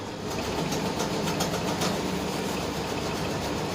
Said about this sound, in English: this is a regular industrial machine